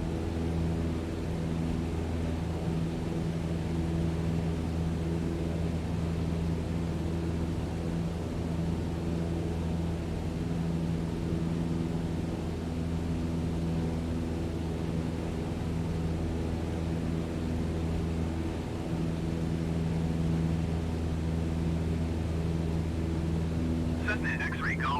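A Cessna aircraft engine in Microsoft Flight Simulator 2020 holds a steady droning hum with strong tonal layers, continuous and unchanging throughout, with a faint rise at the very end.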